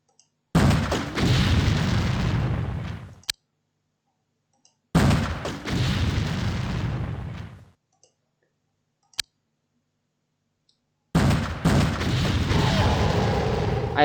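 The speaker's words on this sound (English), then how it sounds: "I hope I blew up the pod" Explosion in a turn-based alien combat game, heard as several separate loud booming bursts, each followed by a short rumbling decay, with sharp clicks and silence between them.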